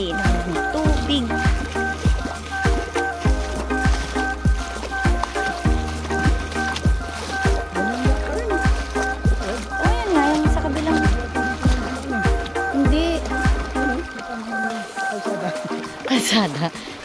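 A small boat crosses open water on the way to Jomalig island, with a steady low motor drone and a repeating rhythmic thump of the hull over the waves, heard up close throughout.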